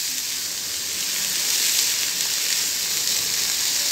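Onions sizzling in a pan while being fried for a mushroom cheese sandwich, a steady bright hiss of frying that holds at an even level throughout, with no talking.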